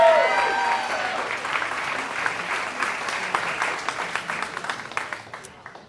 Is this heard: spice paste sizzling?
no